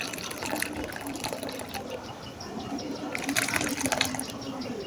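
Thickened, boiled-down milk pours from a pot into a bowl, a soft continuous liquid splash with small gurgles, close and moderately quiet, swelling slightly near the end.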